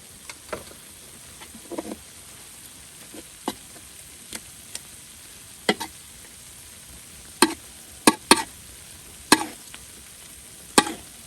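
Soft sizzling of curry paste and shrimp paste frying in a pan, punctuated by sharp scraping and clacking of a utensil, irregular and close, growing busier toward the end.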